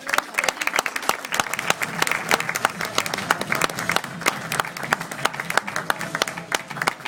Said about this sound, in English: So let's have a nice round of applause.